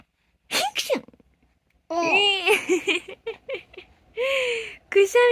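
An adult voice imitates a sneeze for a three-month-old baby, giving a quick sneeze-like burst followed by baby babbling and squeals, then another imitation sneeze amid close, playful vocal sounds.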